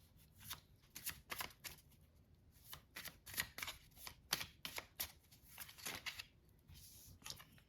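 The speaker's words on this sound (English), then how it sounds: "I've already, as I mentioned, pre-shuffled and cleared the deck." A tarot deck being shuffled in quick bursts of riffling and flicking, close and crisp, with short pauses between rounds and no voices.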